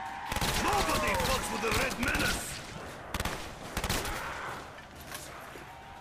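Light machine gun fire in the Black Ops Zombies map Nacht der Untoten: loud, dense bursts of rapid shots with brief gaps and game sounds, and a voice also talking.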